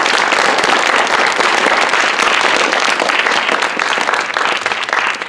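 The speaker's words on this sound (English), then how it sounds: "if you could please just give them a round of applause" A school audience gives a loud, dense round of applause for an alumni panel, many hands clapping continuously before tapering slightly at the end.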